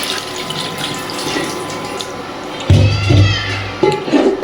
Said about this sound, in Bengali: মাংসতে পানিগুলো আমি দিয়ে দিলাম এখন।